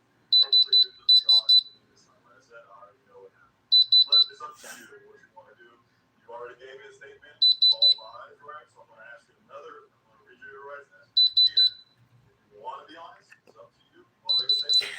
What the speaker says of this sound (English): So this will beep if it's moissanite or diamond.